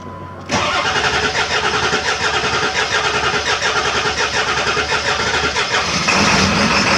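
A broken-down truck's engine cranks briefly, then catches and roars to life, settling into a loud, rough idle that swells slightly near the end.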